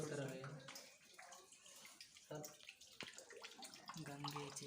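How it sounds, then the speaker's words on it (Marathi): Water pours steadily from a spout at the Ganga source shrine in Trimbakeshwar, Nashik, a continuous splashing rush with voices talking over it throughout. "तोंडातून येतं पाणी."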